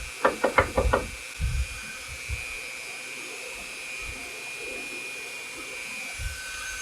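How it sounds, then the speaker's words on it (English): Several sharp knocks in quick succession land on a carved wooden stump to shake dust loose, then fade into a long steady hiss of room noise with a few faint thumps. "Knock some of this dust off."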